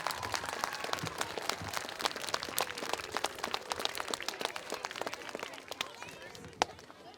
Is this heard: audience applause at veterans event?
yes